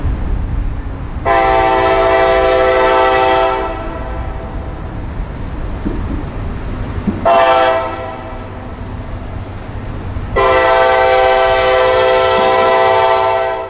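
A long mixed freight train led by EMD and GE locomotives rolls south, sounding its horn in three long harmonic blasts over a steady rumble of wheels and cars, loud and close.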